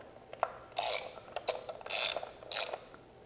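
Ratchet tightening Torx bolts on a Harley-Davidson Softail Slim during an oil change, three bursts of fast metallic clicking at close range with small taps between, no talking.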